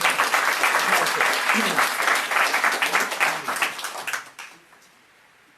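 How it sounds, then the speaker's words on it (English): Audience applause for visiting parliamentarians from 15 countries at a Tibet human-rights gathering, a dense steady wash of clapping that fades out over the last second, with a brief spoken thanks over it. "Give yourselves an applause for coming here."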